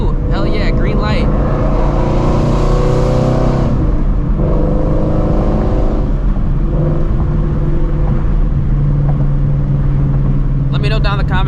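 A Shelby GT350 Mustang cruises at night, its engine a deep continuous rumble that swells as it revs and accelerates, steady and close throughout, with a voice briefly audible over it.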